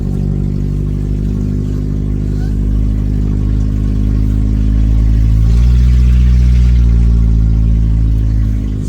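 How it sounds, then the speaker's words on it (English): Engine of a 1986 Toyota Tercel 4WD wagon with an automatic transmission, droning steadily and close as it drives, with a low rumble that swells and deepens partway through as it pulls through the gears. "it's gonna feel really weird driving an automatic Tercel"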